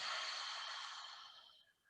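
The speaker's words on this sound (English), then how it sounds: "And exhale through the mouth that's open." A long, steady open-mouth exhale during a yoga breathing exercise, a soft breathy rush that is close and clear and fades out near the end.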